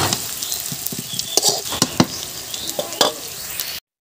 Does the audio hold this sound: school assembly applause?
no